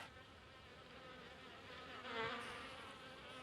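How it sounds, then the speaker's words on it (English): Bees swarm after insect spray at a chateau, their dense buzzing a steady, close hum that swells briefly midway, with no talk. "There are a lot more bees than I thought there were."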